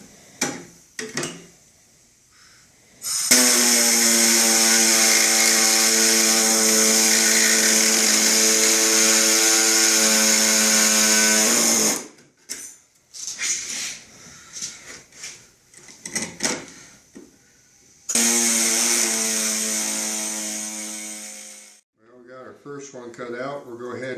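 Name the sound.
air hacksaw cutting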